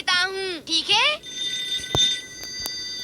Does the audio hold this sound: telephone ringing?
yes